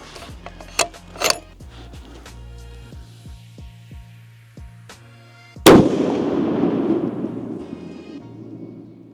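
A long range rifle chambered in 28 Nosler fires at an outdoor range: one sharp, loud shot cracks out mid-clip and rolls into a long fading echo, preceded by faint mechanical clicks and handling noises.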